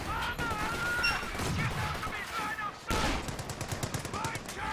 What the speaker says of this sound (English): the indirect fire is just really raining down